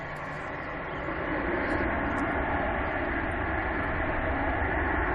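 Ryanair airliner bound for Valencia at Manchester Airport, a steady broadband jet roar that swells slightly and holds at moderate distance, with no voices.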